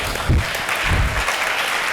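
Church congregation applauding during a sermon, a steady dense wash of clapping with a few louder bursts, sustained throughout without clear speech.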